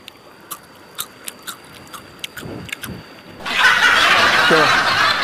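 Crunchy banana-stem chips bitten and chewed close to the mouth, a few sharp crisp bites at first, then a louder dense stretch of crackling chewing.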